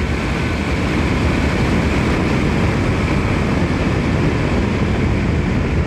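A BMW F 850 GS Adventure Edition 40 Years GS 2021 motorcycle pulling hard in sixth gear at about 60 mph, a steady loud engine drone blended with rushing wind roar, continuous and unbroken.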